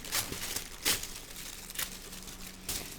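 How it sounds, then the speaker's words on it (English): Tissue paper and packaging of a subscription box being torn open by hand, heard close as several quick crinkling rips and rustles separated by short pauses. "So I'm just going to rip this open."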